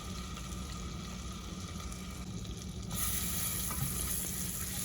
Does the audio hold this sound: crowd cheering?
no